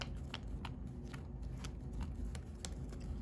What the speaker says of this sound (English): Let's go ahead and power shuffle really quick.